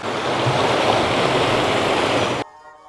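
A loud, steady rush of a mountain stream and waterfall in Morocco, continuous broadband water noise that cuts off abruptly near the end.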